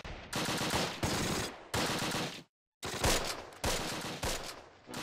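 Machine gun fire in the Close Combat: The Longest Day video game, loud rapid bursts about a second long, repeated several times with a brief silent gap.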